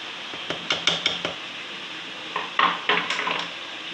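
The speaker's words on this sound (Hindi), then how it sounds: "तकरीबन 6 से 7 मिनट मैं चिकन भूनूँगी।" Chicken frying in a pan with spinach on the side, under a soft steady sizzle broken by clusters of sharp metallic scrapes and clinks as a spatula stirs against the pan in two bursts.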